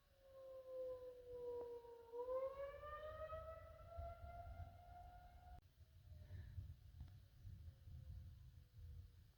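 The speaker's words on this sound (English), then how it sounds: "This is the second time the sirens are going off." An outdoor tornado warning siren wails from a distance at midnight in Rolla, Missouri, its tone rising and holding for several seconds before dying away, with no talking.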